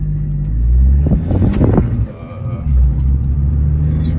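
An Abarth 500 with a stage 1 tune and BMC air filter drives along, its engine rumbling loudly from inside the cabin and rising in brief revving surges, with voices talking over it.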